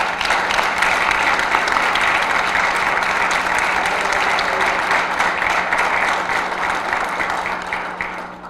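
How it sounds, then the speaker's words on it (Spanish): Dense audience applause for a senator at an anticorruption conference, sustained clapping from a large crowd that holds steady for several seconds before gradually tapering. "por favor les pido un aplauso para el senador Ernesto Rufo Appel"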